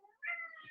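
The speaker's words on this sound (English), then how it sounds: "Can you hear meowing?" A single short cat meow, clear and fairly close, with nothing else around it.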